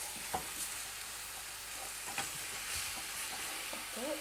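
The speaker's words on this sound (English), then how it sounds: "The beef's being distributed around the pan." Beef sizzling in a frying pan as it is stirred around, a steady hiss of frying with occasional faint clinks and scrapes from the pan, fairly quiet and without talk.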